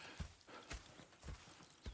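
Horses' hooves clip-clopping in the Red Dead Redemption 2 video game, a quiet, steady walking rhythm of soft repeated hoof thuds heard alone.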